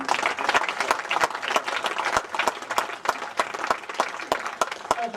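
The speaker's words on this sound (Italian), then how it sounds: "se volete tributare un applauso al regista e l'autore" A theatre audience applauding a play's director and author continuously, dense clapping with a few sharper nearby claps standing out, sustained throughout.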